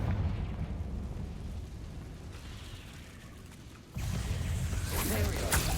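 A Confringo explosive spell in Hogwarts Legacy, fired in a rune-marked chamber, breaks out as a sudden loud blast partway through after a low rumbling bed of ambience, followed by crackling debris and sparkling tail.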